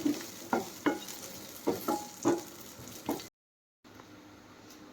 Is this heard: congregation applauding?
no